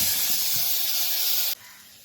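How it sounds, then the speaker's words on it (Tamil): Garlic, onion and tomato frying in a pan, giving a steady, loud sizzling hiss that runs unbroken before dropping abruptly to a quieter sizzle near the end. "அதில் ஆனியன், ஒரே ஒரு தக்காளி, இது எல்லாத்தையும் போட்டு நல்லா நம்ம ஃப்ரை பண்ணிக்கலாம்"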